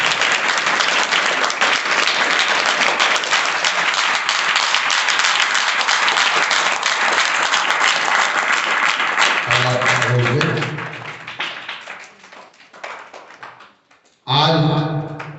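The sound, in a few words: loud applause at start of school math assembly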